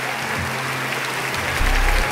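A studio audience on a quiz show claps steadily, a dense wash of applause that swells slightly near the end.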